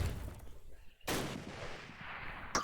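A single Springfield rifle shot in an online first-person shooter match, a sudden loud crack with a trailing decay, followed by a brief sharper game sound.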